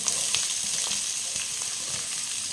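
Onion sizzles in hot oil in a kadai after mustard seeds have been added, a bright steady frying hiss with scattered pops and stirring, close by and without speech.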